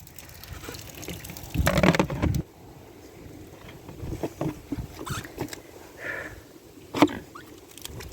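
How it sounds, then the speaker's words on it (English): Water poured into a container for a farm animal on a cold day: a short splashy burst of pouring, followed by scattered knocks, clinks and light splashes. "Hey, Boris, get you some water."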